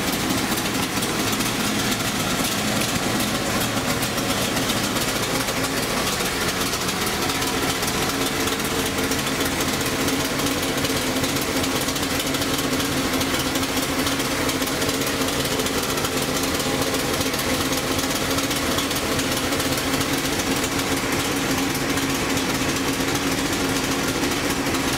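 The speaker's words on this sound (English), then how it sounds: "That's that street hemi idle lope." A 1971 Dodge Charger R/T's 426 Hemi V8 idles steadily with a choppy, rumbling lope throughout, heard fairly close and continuous with no talking.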